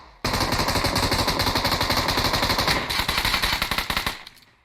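Rapid automatic gunfire from the PUBG Mobile game rattles in one sustained burst of about four seconds, loud and close, with a brief hitch near the end before it cuts off, no voices.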